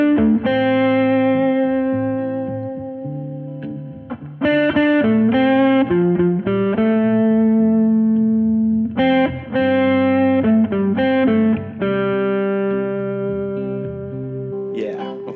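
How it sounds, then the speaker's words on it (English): Distorted electric guitar plays sustained chords and single notes, loud and alone, with brief gaps between phrases. "now I'm just going to put on distortion, just because I want to see what it sounds like"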